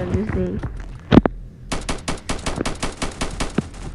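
Roblox Strucid gunfire: a loud close blast followed by a rapid series of sharp cracking shots, with a voice briefly talking at the start.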